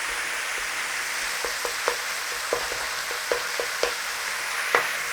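Pork mince fries in a pan for spring rolls, a steady close sizzle running throughout while a utensil breaks up clumps with small scraping taps every half second or so.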